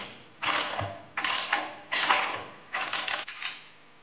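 Ratchet wrench with a 9/16 socket loosening a tank mounting bolt on a Harley-Davidson Street Bob 114 Softail, four distinct bursts of rapid clicking separated by short pauses, close and fairly loud with no talk.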